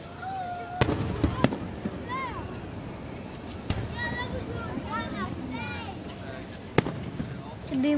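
Fourth of July fireworks pop and crack in a few sharp reports with crackling bursts between them, heard at a distance while people chatter and exclaim nearby.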